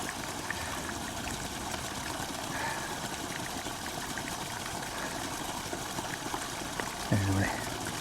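Water pours steadily into a bag being filled for filtering, a continuous close splashing rush that runs unbroken, with a brief soft thump near the end.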